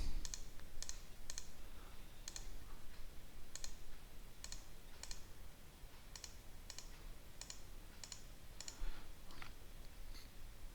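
Computer mouse clicks and spacebar presses while tracing in QGIS come as a series of sharp, light clicks at irregular intervals over a faint background hum, with no talking.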